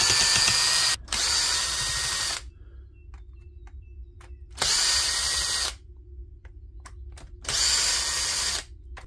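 A power drill spins out screws from a machine casing, likely a fuel wrench, in three loud sustained bursts of whirring, each lasting one to two seconds, with quiet gaps and faint clicks between them.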